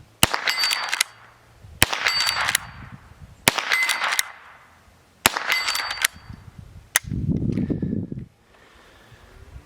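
Five sharp rifle shots fired at 50 yards with cheap plinking ammunition through a budget CVLIFE 1x30mm red dot scope, each crack followed by a short rattling tail, spaced about two seconds apart, then a low rumbling thud.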